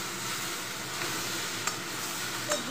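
Vegetables and jackfruit seeds sauté in a pan with a steady sizzle and hiss, close and continuous, with a couple of faint clinks of a stirring utensil.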